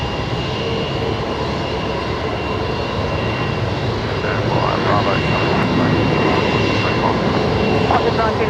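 A Qantas jet taxiing at Brisbane Airport, a loud steady engine roar that swells slightly toward the end, heard close with some faint voices in the background.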